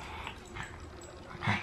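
A dog gives a short bark or yip near the end, preceded by soft whimpering and breathy noises in a quiet room.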